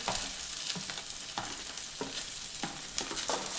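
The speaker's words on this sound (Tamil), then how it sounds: "அதுக்கப்புறமா நம்ம அறுத்து வச்சிருக்க பூண்டு கொஞ்சம் போட்டு நல்லா வணக்கிக்குவோம்" Chopped garlic fries in a pan for a dried fish gravy, a close steady sizzle broken by repeated rhythmic stirring scrapes roughly every half second, with no talking.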